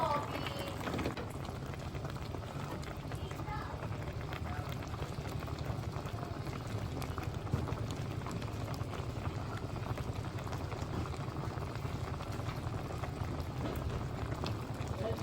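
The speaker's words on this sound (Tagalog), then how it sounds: "Kumulo na yung ating adobo." Adobo bubbling in a covered pot, a soft steady simmering hiss with faint popping bubbles, quiet and continuous for the whole stretch while a voice talks faintly.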